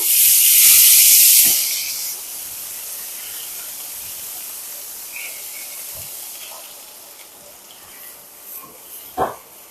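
Spice paste hits hot oil in a pan with a loud hissing sizzle that dies down within about two seconds to a faint, steady fry, with a few soft clicks of stirring.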